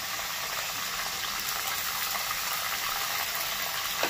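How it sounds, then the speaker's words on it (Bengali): Soaked chickpeas fry with potato and papaya in a pan, giving a steady, dense sizzle that hisses evenly throughout with no pauses and no talking. "এবার ভালো করে আলু পেঁপের সাথে ছোলাটাকেও ভেজে নেবে।"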